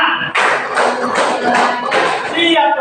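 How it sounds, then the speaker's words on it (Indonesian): A group of people clapping in counted bursts, about five sharp rounds of claps in quick succession, close and loud, mixed with voices chanting along. "Tepuk 1, tepuk 2, tepuk 3, tepuk 4, tepuk 5."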